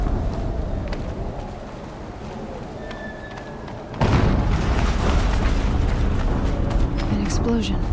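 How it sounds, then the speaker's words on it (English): An explosion in the Horizon Zero Dawn video game hits abruptly as a broad, rumbling boom that fills the mix and sustains over a busy game soundscape. "An explosion."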